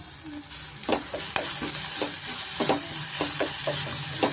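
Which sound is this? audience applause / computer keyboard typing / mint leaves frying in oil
mint leaves frying in oil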